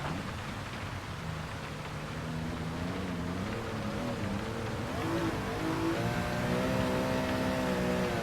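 A race car in Gran Turismo 7 runs on under braking, its engine a continuous droning whine that shifts pitch and rises slightly toward the end, steady and fairly loud with no voices.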